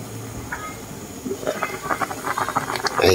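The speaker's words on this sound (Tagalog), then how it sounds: "Ayan, kumukulo na siya." A covered pot on a gas stove comes to a boil, a rising hiss with irregular bubbling and patter that builds in loudness over a few seconds, close by with no talk.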